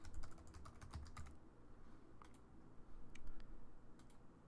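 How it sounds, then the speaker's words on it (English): A computer keyboard clicks out a web address, with a quick burst of keystrokes at the start and then a few scattered, fainter taps, close and quiet with no voice. "we type in the URL to our Twitter account"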